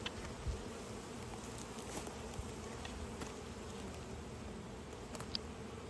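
Honey bees buzzing around a hive frame during honey pulling, a faint continuous drone with occasional closer bees flying past.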